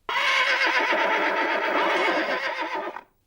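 A horse gives a single loud, close whinny lasting about three seconds, with a bright, wavering, harmonic tone that cuts off sharply, and no other sounds around it.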